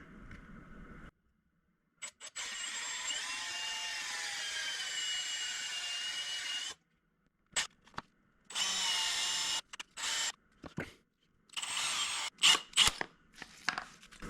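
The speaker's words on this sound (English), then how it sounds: "And I'll just drill the holes in here." A power drill boring holes in wood for a dice tower, a sustained whine of about five seconds followed by several short bursts and stops, close and loud with no talking.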